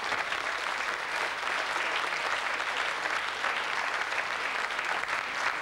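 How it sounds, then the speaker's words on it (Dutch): An audience applauds steadily after an award presentation at a design prize for a chair, a continuous even wash of many hands clapping, slightly distant and without voices. "Zou maar even klappen."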